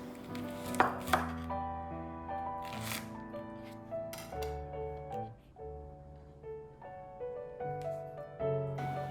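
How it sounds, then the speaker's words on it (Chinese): A knife chopping scallion whites into segments on a cutting board, with quick close chops in uneven runs over soft background music. "切一点葱白"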